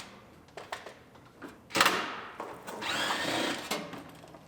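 Front shield bolts are unbolted from under a wrecked Civic Si with a power tool, giving a few short whirring bursts and metallic clatters. One sharp burst is followed by a longer steady run, all close by.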